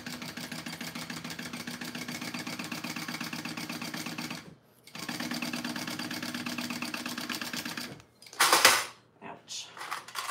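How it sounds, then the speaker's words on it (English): A sewing machine stitches a fabric wallet at a 3/8 seam allowance in two steady close bursts separated by short pauses, followed by brief handling noises. "we are going to sew along those at a 3/8 seam allowance"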